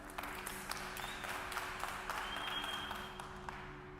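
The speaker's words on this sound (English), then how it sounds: "Give a huge round of applause for Bruno Sanmartin" Audience applause at a conference talk on NFT marketplaces and blockchain adoption, a steady mid-level wash of clapping with a low hum beneath, lasting about four seconds.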